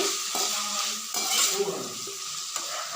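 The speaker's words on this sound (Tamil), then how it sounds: "தவா போட்டு கிண்டி எடுக்கணும் ஸ்டார் புளிச்சிக்காவை போட்டு கிண்டி" Star fruit pickle stirred in a tawa, with a steady close sizzle and bright frying hiss running throughout, punctuated by a few sharp scrapes of the spoon against the pan.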